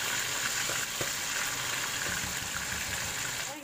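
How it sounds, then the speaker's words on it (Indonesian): Salted fish frying in hot oil until crisp, a continuous close sizzling hiss with faint occasional pops, steady and uninterrupted, without speech. "Kita goreng garing ya"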